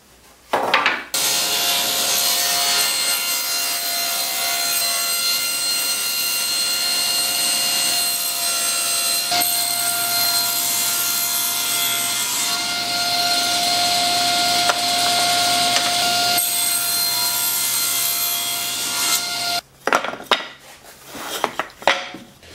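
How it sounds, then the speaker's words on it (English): A power saw runs continuously as it cuts strips of Western red cedar, a loud, steady whining rasp that shifts pitch slightly mid-cut before spinning down, ending in a few knocks. "the first thing I'll do is just cut some strips"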